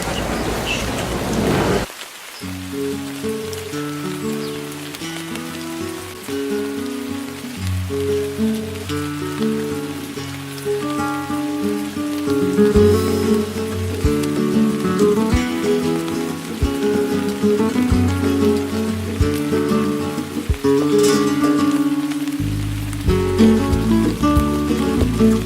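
Rain falls steadily on a rainy morning in the old town of a northern Spanish city, a continuous patter of drops that runs under tonal background sounds with no speech.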